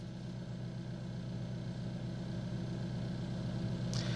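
An Alfa Romeo's engine idles at a steady low rumble, even and unbroken, heard from nearby with no voices, ending with a brief faint click.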